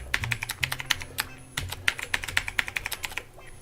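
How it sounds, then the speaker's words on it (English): Fingers type a password on a computer keyboard, with a steady run of crisp, close keystrokes and a brief pause midway. "Hit next, and we're going to type in our password."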